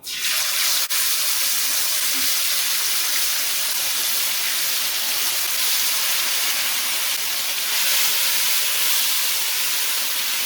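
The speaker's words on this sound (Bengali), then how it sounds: "এবার আমি ফ্রাই প্যানে অয়েল দিয়েছি। এবার এগুলিকে আমি ভেজে তুলব।" Marinated chicken pieces frying in oil in a frying pan, a steady loud sizzling hiss that runs unbroken throughout with no talking.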